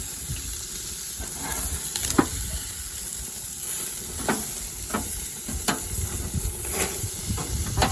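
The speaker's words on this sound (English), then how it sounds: "I'm here to flip the steaks" Steaks searing on a barbecue grill crackle and sizzle steadily, with several sharp flares and clinks as the meat is turned over.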